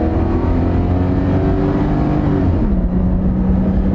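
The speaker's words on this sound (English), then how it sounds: "Engine sounds good." An SUV engine with about 316,000 miles pulls at full throttle, a loud, steady drone heard from inside the cabin that climbs in pitch, then shifts down and settles lower near the end, with no talking over it.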